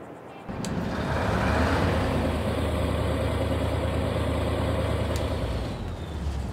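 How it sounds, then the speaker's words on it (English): A Fortschritt E516 combine harvester engine from a video game mod starts up and then runs steadily. The low, dense drone stays loud and constant with little change in pitch, and there is no talking over it. "so I'll move quiet so you guys can hear that engine"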